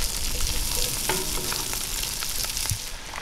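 Chopped onions and garlic sizzle in oil in a Dutch oven, a steady close crackling fry with occasional stirring scrapes and clicks.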